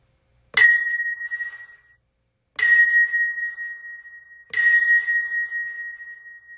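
Three evenly spaced strikes of a bell sample in a beat-making session, each a bright metallic ping with a sustained pure ringing tone, drenched in reverb so the tails linger for over a second, heard alone.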